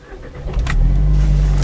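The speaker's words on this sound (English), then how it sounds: "power it on, just apply the clutch and turn the key," A 2015 Opel Astra OPC with a manual gearbox cranks briefly, then fires and settles into a loud, steady idle, heard up close with no talking.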